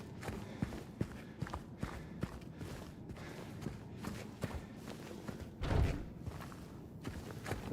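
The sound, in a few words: footsteps of the first boss in a video game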